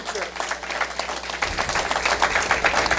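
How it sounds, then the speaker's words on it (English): A church congregation at a Sunday service breaks into hand clapping, dense and sustained, building slightly in strength over a low background hum, with voices mixed in among the claps. "Let's give them a hand clap."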